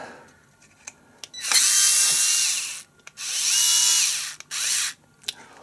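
A Worx WX240 cordless electronic screwdriver runs in electronic mode, giving three loud, close whirring motor bursts of one to two seconds each, with short pauses and faint clicks between them.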